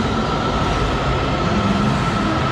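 A metro train running underground, a loud, steady rumbling roar with constant mechanical hum and no distinct clacks or voices, heard from close by as if on board.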